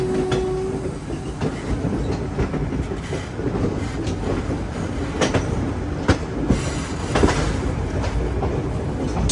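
Superfast train from Dhanbad to Bhubaneswar rolls along the tracks, a loud, steady rumble with rhythmic clickety-clack wheel beats and occasional squeals, heard up close with no talking.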